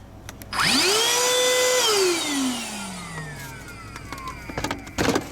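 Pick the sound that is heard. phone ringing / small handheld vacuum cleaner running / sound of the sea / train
small handheld vacuum cleaner running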